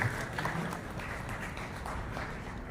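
Faint, steady clapping from an audience honouring a chief guest at a school hawan yajna event, a continuous low wash of applause with no clear peaks throughout.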